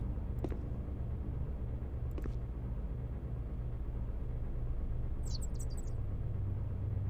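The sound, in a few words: birds chirping in video game Barrow Hill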